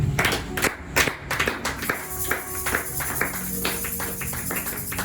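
A church congregation claps to acclaim the Lord during a sermon, a burst of quick, loud claps near the start thinning into lighter, scattered taps and claps that carry on under a murmur of background noise.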